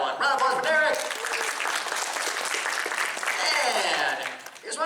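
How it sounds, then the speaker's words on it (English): An audience at a Galaxycon convention Q&A with a comedian claps in sustained applause that rises and fades, filling the hall, with a voice speaking over it near the start. "Round of applause for Derek."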